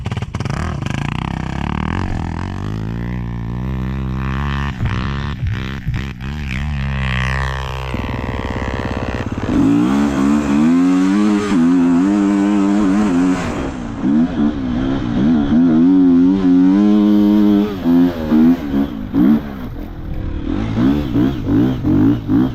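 Dirt motorcycles at a gravel pit rev hard and repeatedly, their engine pitch sweeping up and down in loud, close bursts that cut in and out, with no speech over them.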